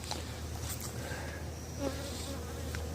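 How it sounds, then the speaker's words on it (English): Honey bees buzz steadily around an opened beehive with its lid off, a close, continuous droning hum with individual bees passing near. "There's some bees on that lid."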